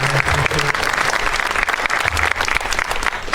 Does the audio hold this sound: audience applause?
yes